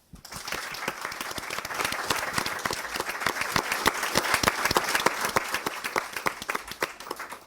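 Dense, steady applause from a seated audience at a city mayoral debate in Fulton, held at an even level for several seconds with no voices heard.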